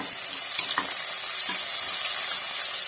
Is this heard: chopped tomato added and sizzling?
yes